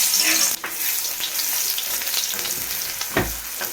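Black cumin seeds and garlic paste frying in a pan, a loud, steady sizzle with occasional stirring scrapes and a heavier clunk of the utensil near the end.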